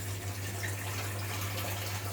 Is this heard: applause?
no